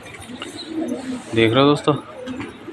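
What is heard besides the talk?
pigeons cooing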